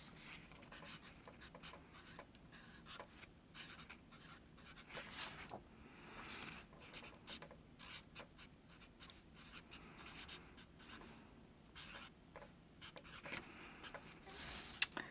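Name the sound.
writing out electron configurations by hand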